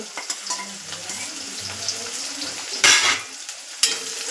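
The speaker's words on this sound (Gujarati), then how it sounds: "પછી ત્રણ કડી લસણ હતું જે મેં ખોલી અને સમારી લીધું છે તે એડ કરીશું" Chopped garlic goes into a hot pan for a besan curry, giving a steady close sizzle broken by a few sharp clinks of a utensil against the pan and stirring scrapes.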